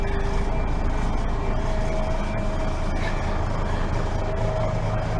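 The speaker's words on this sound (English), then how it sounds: "you might be able to hear the Voith gearbox" Bus with a Voith automatic gearbox running in a restoration shed, a steady loud diesel drone with a faint high mechanical whine held throughout, no talk over it.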